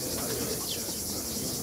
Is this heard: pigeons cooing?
yes